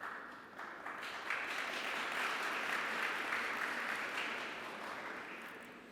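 Graduation ceremony crowd clapping, a soft burst of applause that swells quickly, holds as a dense even patter from many hands, then gradually tapers off.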